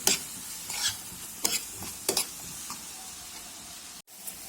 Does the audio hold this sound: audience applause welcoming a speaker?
no